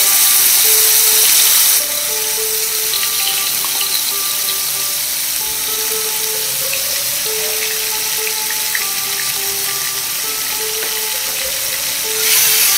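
Onions with ginger-garlic paste fry in a pan, a loud steady sizzle running throughout with no talk and louder bursts at the start and finish.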